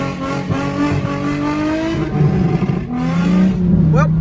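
A G35 drift car accelerates hard away from a red light, close and loud, its engine note climbing in pitch, dipping briefly at gear changes and then rising again, with a voice briefly present.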